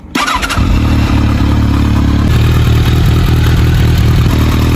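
A Kawasaki ZRX1200R motorcycle engine starts up with a sharp crank, then settles into a loud, steady, throbbing idle recorded close up.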